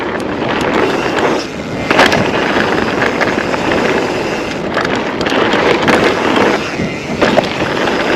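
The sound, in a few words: wind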